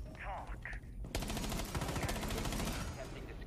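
Rapid automatic gunfire spraying in Rainbow Six Siege, a dense burst of fast repeated shots that starts abruptly and runs loud for over two seconds, with a voice talking just before it.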